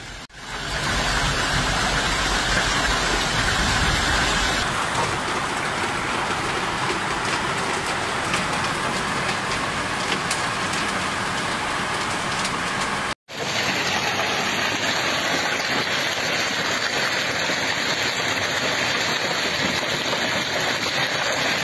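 Steady, heavy rain roars without a break during a storm with lightning and wind in the lower Val di Susa, Italy, a dense broadband wash that stays loud throughout, with a brief dropout about two-thirds through.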